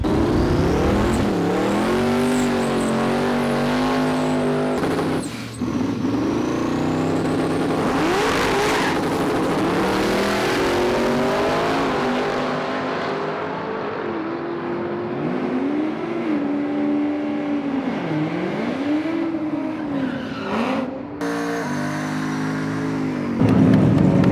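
A race car makes a drag strip pass at LS Fest in Vegas, its engine revving hard through rising, falling gear changes with tire noise, loud and close before fading toward the end.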